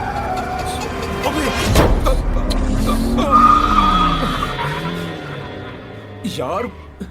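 A car engine roars and tires screech in a long skid, loud and close, while people talk and shout over it.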